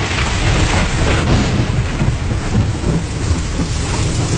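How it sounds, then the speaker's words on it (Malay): A heavy, rumbling roar of thunder fills the whole stretch, deep and sustained, with a hiss like rain mixed in. "terdengar bunyi dentuman guruh yang begitu kuat"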